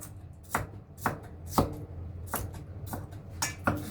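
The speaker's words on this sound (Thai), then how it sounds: "จากนั้นเราก็สับ" A knife chopping on a cutting board, about eight steady thuds in an even rhythm, close and clear with no talking.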